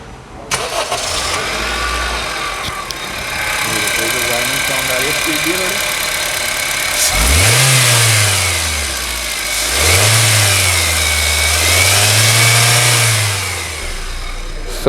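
A Honda Amaze engine cranks and catches, then revs up and down in several rising and falling sweeps with a persistent high whine over the engine note, loud and close, with people talking briefly.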